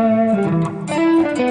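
Electric guitar playing a bluesy solo passage, with sustained bent notes and short phrases, loud and close, no talking.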